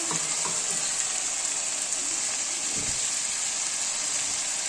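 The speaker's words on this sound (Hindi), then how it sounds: "अब इसके अंदर ये फ्राई किए हुए आलू डाल देंगे और इसमें थोड़ा सा पानी डालेंगे" Fried potatoes and a splash of water go into sizzling mutton keema in a hot pan, raising a loud, continuous hiss and bubbling sizzle with a few stirring clatters near the start, close up and steady with no talking.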